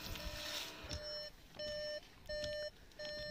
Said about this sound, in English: because that beeping noise is driving you mad